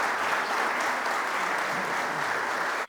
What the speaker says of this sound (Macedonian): Додека најголем број пратеници говорат на генералниот секретар го поздравија со аплауз